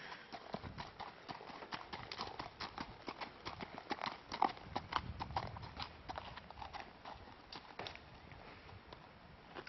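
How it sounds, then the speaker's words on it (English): A young three-year-old gelding of about 15 hands walks on a trail, its hooves clip-clopping in a steady, even rhythm, fairly close but quiet, with no talking. "This is a beautiful little gelding."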